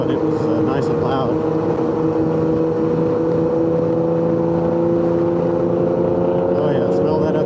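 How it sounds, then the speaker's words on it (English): A loud, throaty tuned car engine running on ethanol revs continuously at high revs, droning and rumbling without pause, with voices faintly present beneath it. "He just got on the throttle a second ago and it was nice and loud."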